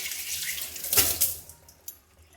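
Water is poured onto a shampooed mop, a brief splashing gush that peaks and then trails off into light drips and faint clinks, heard alone and fairly close.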